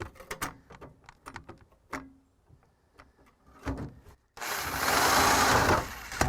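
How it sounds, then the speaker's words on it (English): A reciprocating saw cutting through the floor of a donor car, heard as a loud, harsh burst of about two seconds that follows scattered clicks and knocks. "Technically, it's a reciprocating saw, not just a Sawzall."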